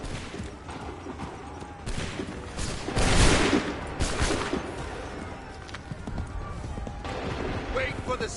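A volley of musket-style gunfire in the video game Assassin's Creed III Remastered, a dense burst of overlapping shots around the middle, surrounded by scattered shots and battle noise.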